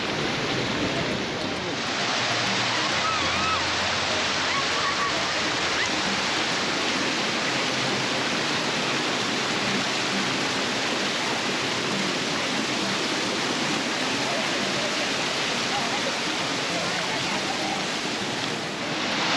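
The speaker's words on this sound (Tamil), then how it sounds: "இங்கே பார்த்தீங்கன்னா தண்ணி கொஞ்சம் ஃப்ளோ அதிகமாக இருக்குது" River water rushes over the Seemapuram check dam on the Kosasthalaiyar near Minjur, a broad continuous roar of flowing water that stays steady and fairly close throughout.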